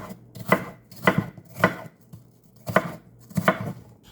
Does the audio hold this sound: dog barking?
no